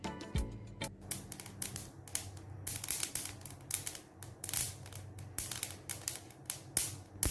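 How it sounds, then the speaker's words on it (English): Whole flaxseeds dry roasting in a pan over a medium flame give off rapid, irregular crackles and sharp pops, dense and close, with no voice over them. "Keep roasting the seeds on medium flame till they turn darker in color, and also you hear the popping sound like this."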